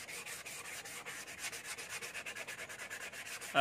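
Rapid rhythmic rasping of 180-grit sandpaper wet-sanding paint off plastic, rubbed back and forth, steady and close, with no voices.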